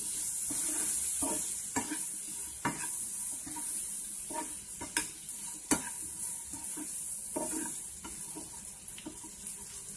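Spiced buttered corn with lemon juice is stirred in a pan, giving a faint sizzle under a series of soft scraping strokes and light clinks, with no talking.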